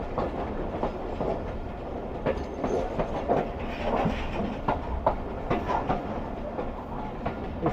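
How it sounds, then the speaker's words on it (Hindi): A train rolls toward Bagrani Road railway station on the Larkana to Kotri route in Pakistan, wheels clattering in a steady clickety-clack with dense rumble and scattered sharp knocks throughout, close and continuous with no talk. "ये पहला स्टेशन है जहाँ पर ट्रेन स्टॉप करने के लिए जा रही है।"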